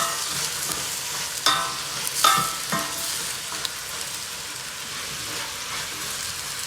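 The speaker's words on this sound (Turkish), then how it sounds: "Taze fasulyemi şöyle bir iki tur karıştıracağım" Fresh green beans are stirred in a sizzling pan, a steady fry with a few distinct scrapes and clinks of the spoon, close and alone.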